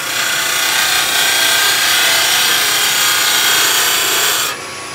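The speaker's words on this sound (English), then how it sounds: "Now we drop the handle down and skew cut." A skew chisel cuts wood spinning on a lathe, giving a loud, continuous rasping hiss that holds steady for several seconds before suddenly dropping away near the end.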